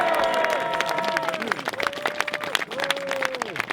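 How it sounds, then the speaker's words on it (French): Crowd at an outdoor rally against the Tropicalia project applauding 38 associations, a thick wash of clapping with scattered cheers while a voice talks and a long sung or shouted tone wavers over the noise. "je voudrais que vous faisiez réellement un tonnerre d'applaudissements à ces 38 associations"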